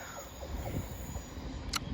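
A passenger train on the Cardiff Central to Plymouth service slows to a stop at Teignmouth station, its wheels rumbling low and a brief high squeal of brakes rising near the end, with no talk.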